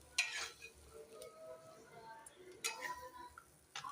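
Mustard and green chili paste stirred in a pan while cooking a Bengali dish, giving short scraping bursts near the start and again later, with faint clinks and a low background hum.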